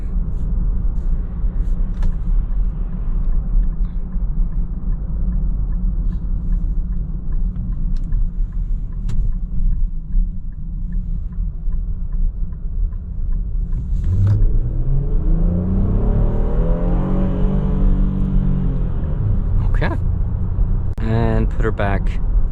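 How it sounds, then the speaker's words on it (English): A 2022 Infiniti QX60 AWD in sport mode accelerates hard, its engine note rising into a strained, climbing whine after a steady rumble of road and cabin noise, then falling away as the throttle is released. "We can do a short acceleration run, as we always do."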